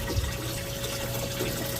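Water flows turbulently from the nozzle of a 50 gallon aquarium tank, a steady close gurgling rush with a faint underlying hum, continuous and fairly loud.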